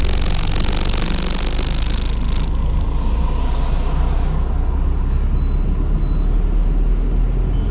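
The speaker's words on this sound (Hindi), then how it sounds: "छोड़ दो क्लच को और रेस देना शुरू कर दो।" A learner driver's car pulls away as the clutch is released and the engine is given throttle, a loud, steady rumble of engine and road noise running throughout with no talking.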